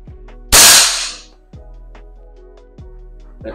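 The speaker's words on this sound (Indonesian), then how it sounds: "Saya mau coba nembak yang sisi kanannya karena masih belum terlalu besar." Air rifle firing a 13-grain pellet at a target, one sharp loud crack that rings and decays over about a second, followed by several faint clicks and light knocks nearby, no talking.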